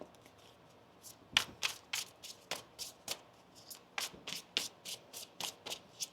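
Tarot cards are shuffled by hand in a quiet room, giving a close run of quick riffling bursts, some sharper and louder than others, at a steady rhythm with no talk.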